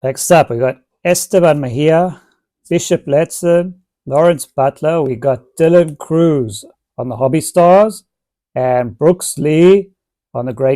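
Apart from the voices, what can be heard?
None of the usual background noises is heard.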